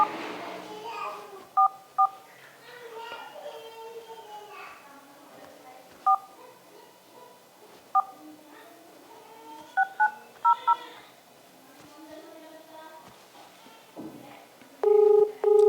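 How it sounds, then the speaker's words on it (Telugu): Telephone keypad tones as a number is dialed, short isolated beeps scattered across the stretch with several quick clusters, clear and close, while someone talks on and off between them. "ఇంకో నంబర్ కాల్ చేస్తున్నాను"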